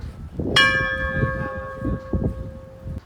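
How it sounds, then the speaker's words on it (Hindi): A temple bell at a Shiva temple in Gulmarg is struck once and rings with a long, clear decay over steady outdoor background noise and faint shuffling, with a fainter knock later on. "ये घंटा बजाया है वहाँ"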